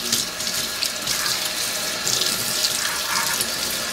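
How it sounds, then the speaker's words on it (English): Garlic leaves rinsed under a running kitchen tap, a steady close hiss and splash of flowing water that continues evenly with no pauses. "So what I like to do is just take the leaves here, kind of rinse them off."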